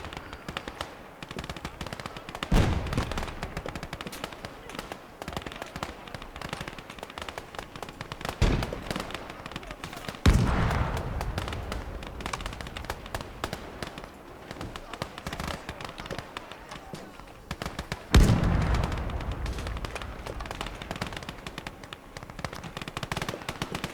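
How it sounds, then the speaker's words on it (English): Old World War One French machine guns fire in a chaotic urban battle in Gates of Hell, with bursts of rapid gunfire and sharp blasts recurring over a constant clatter of distant shooting. "They're pushing in with old French machine guns from World War One."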